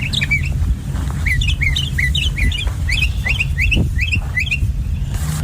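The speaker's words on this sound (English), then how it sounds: "where the pair of mockingbirds live, near the parking lot" Northern mockingbirds sing at a beach parking lot on West Island in coastal Fairhaven, Massachusetts, repeating bright chirps and squawky phrases in quick bursts over a constant low roar of wind or surf.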